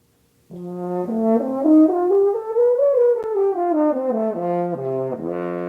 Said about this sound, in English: But then when you blow into the horn, you get what sounds like this.